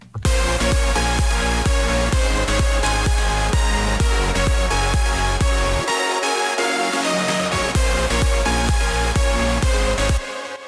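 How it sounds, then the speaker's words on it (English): Full EDM drop from a 2015 Tomorrowland ID, with pounding four-on-the-floor kicks under bright pumping synth chords, a brief bass dropout with a sweeping effect in the middle, then the beat slamming back in, loud and dense, no voices. "Together with the drums, fills, and effect sounds, it makes a complete drop"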